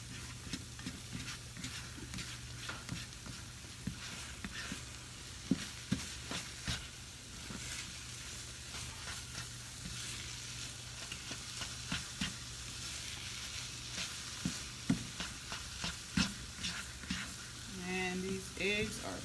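Eggs sizzling and frying in a skillet while a plastic utensil stirs and scrapes them, a soft, continuous crackle with intermittent light scraping ticks, fairly quiet and close.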